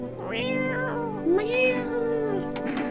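A cat meows in a video game, a few drawn-out plaintive meows close up against a droning musical background, with no talking.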